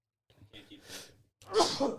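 A single loud sneeze bursts out near the end, preceded by someone speaking briefly nearby.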